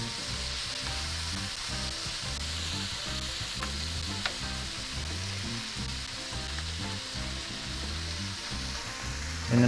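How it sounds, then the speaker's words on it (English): Food caramelizing in a hot pan while cooking toad in the hole fries and sizzles steadily, a dense crackling hiss with rhythmic stirring scrapes throughout, close and alone with no speech. "we're just going to caramelize these for a few minutes"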